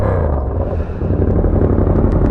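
A Yamaha R7 with a loud full aftermarket exhaust rumbles close by in a steady, throaty, pulsing drone for about two seconds, with no talk over it.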